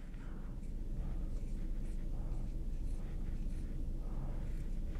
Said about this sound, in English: So I'm going to write that underneath.